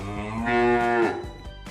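A single long cow moo, loud and close, rising and holding for about a second before trailing off, with nothing else around it.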